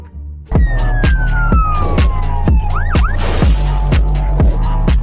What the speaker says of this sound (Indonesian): Wah, kita menemukan mobil patroli polisi teman-teman. Coba kita nyalakan ya.